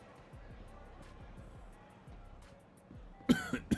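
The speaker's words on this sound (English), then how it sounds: "Sorry if my coughing is loud" A man coughs three times in quick succession, loud and close, near the end, after a stretch of quiet background with faint low engine-like hum and murmuring.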